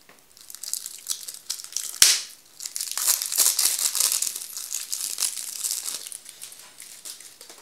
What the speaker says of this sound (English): we're going to open the rest of the deck and see what cards came on it